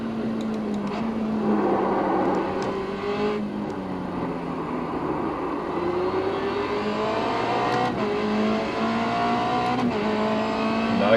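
Race car engine in the iRacing simulator, loud and close, revving up and down through gear changes with rising and falling whine, plus brief tire squeals along the way.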